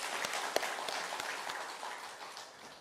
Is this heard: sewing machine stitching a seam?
no